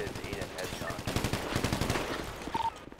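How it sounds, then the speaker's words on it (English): Rapid automatic gunfire crackles in a multiplayer shooter game, a dense string of close shots with brief gaps, under quiet player chatter. "I'm getting some shots off on him"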